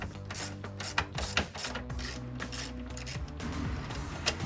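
A ratchet with an extension loosens a 10mm bolt on a Jeep Wrangler radiator, giving rapid close clicking bursts with a few sharp clanks, quiet and with no talking.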